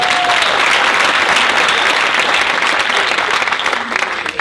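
Loud, dense audience applause at a live shopping event in Atlanta, sustained evenly for several seconds and thinning slightly at the end, with no talk over it.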